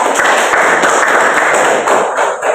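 A classroom of students applauding a classmate, dense continuous clapping close and loud throughout before it briefly thins near the end.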